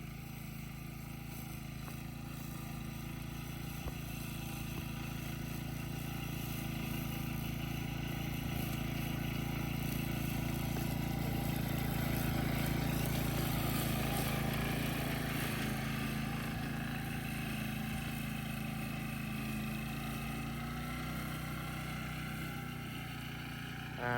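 A walk-behind lawn mower engine with a self-propelled forward gear and 60 cm cutting width drones steadily throughout, a continuous mechanical hum that swells slightly in the middle, with no talking.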